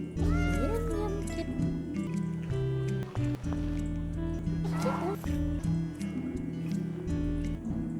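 Cats meow in a detective-themed video game, with several rising and falling meows near the start over a busy, layered game soundscape.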